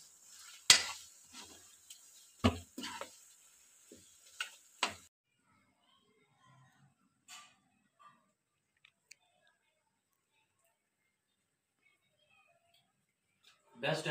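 Chicken and onions stirred in a cooking pot make a handful of scraping clinks over the first few seconds, then near silence with faint sizzle and scattered ticks, and another clatter at the end.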